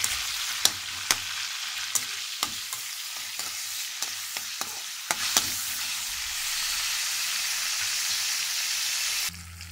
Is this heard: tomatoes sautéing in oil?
yes